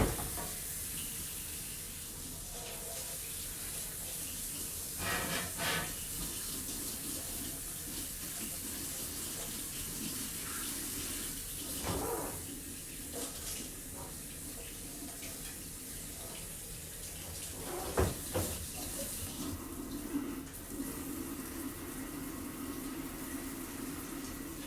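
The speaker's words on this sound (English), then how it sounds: "I'm just gonna rinse off my liquid, or my etching cream." Tap water running to rinse etching cream off a stenciled glass piece: a quiet, steady hiss and splash of flowing water at the sink continues throughout, with occasional soft clunks and splatters.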